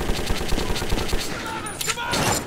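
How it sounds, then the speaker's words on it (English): Gunfire from a first-person shooter set in the Metro 2033 tunnels, a fast burst of sharp shots in rapid succession over a noisy, busy background, loud and close, then a denser rush of noise toward the end. "Oops, I think I shot that on accident."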